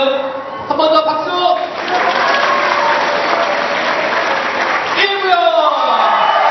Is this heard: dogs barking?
no